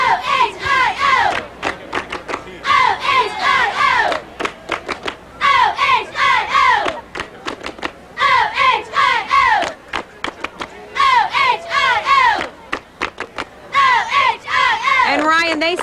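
A crowd of Ohio fans at the 2006 OVAC All-Star high school football game chants and cheers in loud, rhythmic bursts, with several repeated call-like phrases of massed voices and brief pauses between them.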